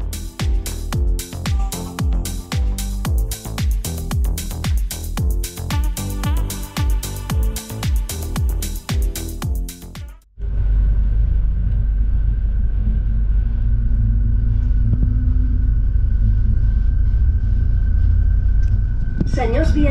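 Inside a RENFE medium-distance passenger train, a rhythmic rattling and clattering gives way midway to a loud, steady low rumble with a faint tonal whine as the train runs on.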